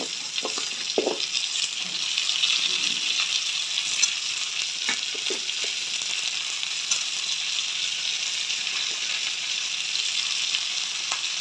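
Pieces of pointed gourd and pumpkin fry in a pan, giving off a steady soft sizzle, with a few clinks and stirring scrapes near the start.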